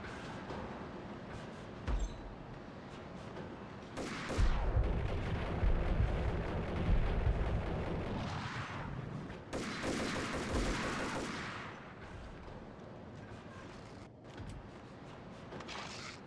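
Grenade blasts and gunfire in the shooter game Max Payne: a burst of loud booming explosions with rumbling low end, scattered shots and sharp cracks, then quieter gun bursts trailing off, with no talk.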